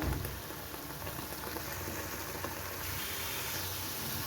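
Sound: tomatoes cooking down in a pan for chutney

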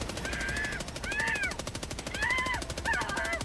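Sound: gun firing continuously in a video game

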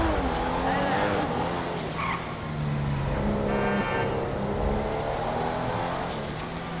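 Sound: Audi A3 car cornering and tires skidding in a video game

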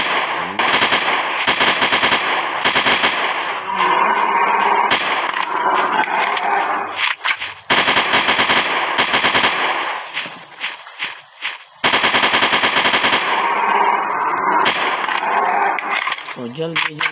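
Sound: gunshots in a dinosaur hunting sniper video game

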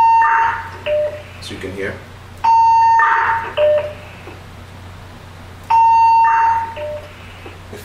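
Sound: beep

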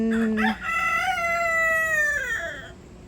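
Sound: rooster crowing

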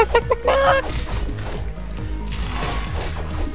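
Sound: chicken clucking in video game Castle Crashers

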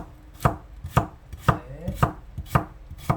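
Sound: knife slicing vegetables into thin strips

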